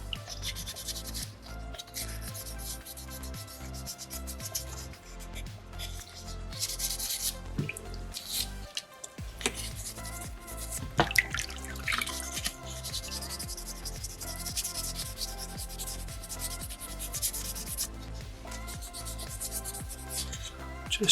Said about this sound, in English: Just trying to be thorough with my 600 grit, making sure I get every nook and cranny that I want polished.